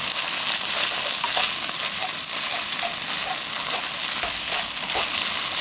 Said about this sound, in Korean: 그때까지 볶아줘야 비린내가 안 나요